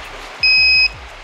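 An automatic temperature-check machine at a church entrance gives a single clear electronic beep of about half a second, loud and close over low background hum.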